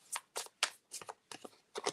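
Tarot cards are shuffled up close in a series of about seven short, crisp riffling bursts at an even pace, fairly quiet and with no talking.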